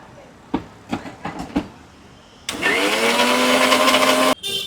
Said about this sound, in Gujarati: થોડું પાણી નાખી આપણે મિક્સર ફેરવી દેવાનું.